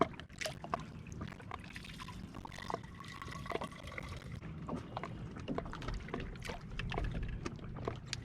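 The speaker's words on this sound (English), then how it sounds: "Time to fill up the old cup with water" Water trickling and splashing as a cup is dipped and filled from a canoe, faint irregular sloshes and drips with small knocks against the hull.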